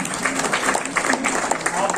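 Audience applause at a national Jawahar Navodaya Vidyalaya alumni meet in Delhi, dense steady clapping from a crowd with a speaking voice running over it.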